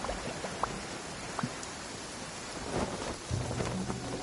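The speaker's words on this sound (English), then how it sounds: "It always rains when I go on an adventure." Rain pours steadily in Genshin Impact while low thunder rumbles and cracks now and then, the storm loud and continuous with no talk.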